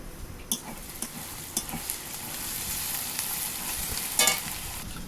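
Chopped onions sizzle steadily in a pan on a village clay stove, with a close, even frying hiss broken by a few sharp scrapes and taps of a spatula being stirred.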